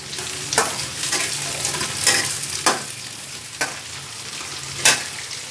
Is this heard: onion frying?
yes